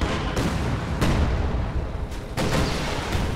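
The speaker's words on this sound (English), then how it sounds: "But artillery's going down right here." Artillery barrage in the World War II strategy game Company of Heroes 2: dense, continuous battlefield rumble with repeated booming shell impacts and sharp blasts at about 0.4, 1.0, 2.1 and 2.4 seconds, loud and close throughout.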